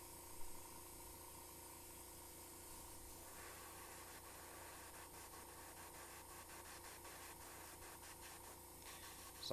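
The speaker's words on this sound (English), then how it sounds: "I'm glazing with the airbrush." Airbrush spraying a thin glaze onto a painted miniature, a steady faint hiss running throughout with light rubbing and tapping noises close by.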